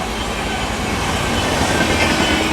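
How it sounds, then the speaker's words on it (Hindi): Close, loud, continuous rumble and rattle from the Sampoorna Kranti Express running at speed past the Amrit Bharat Express on Indian rails, with a steady roar and no speech. "आम जनता की राजधानी संपूर्ण क्रांति एक्सप्रेस अपनी अमृत भारत एक्सप्रेस को ओवरटेक करने आती हुई"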